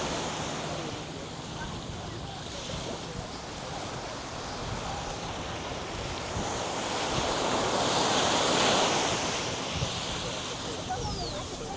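Steady roar of ocean surf at Pigeon Point Beach in Antigua, with waves washing in continuously and wind buffeting the microphone, loud and close throughout.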